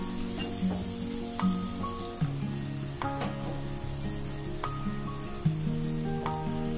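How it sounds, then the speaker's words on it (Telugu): Chicken frying in a pan, with a steady hiss of hot oil under repeated tonal metallic scrapes and clanks of a spatula against the pan, close by and without voices. "ఇప్పుడు బాగా ఫ్రై అయినాయి కదండి"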